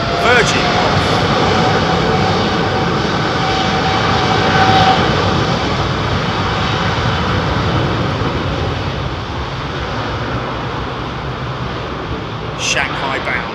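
Virgin airliner at London Heathrow bound for Shanghai, a steady loud jet roar with broadband rumble holding throughout, near and continuous, with some voice underneath.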